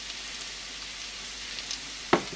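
Meatballs frying in a pan with carrot and tomato paste, a steady soft sizzle with a brief clatter near the end.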